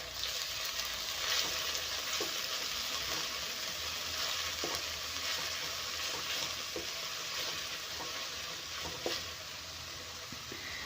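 Noodles stir-fry over a high flame in a pan with garlic paste, giving a dense, constant sizzling hiss and occasional stirring clicks, close and steady throughout.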